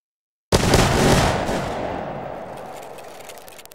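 A line of standing musketeers in Mount and Blade 2 Bannerlord fires at will, starting abruptly after a moment of silence as a loud, dense crackle of overlapping shots that fades into a lingering, rumbling echo.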